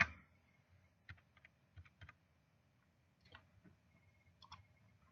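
Keys clicking on a computer keyboard as a number is typed, a few close, light taps spaced out in short bursts over quiet room hum, with no talking.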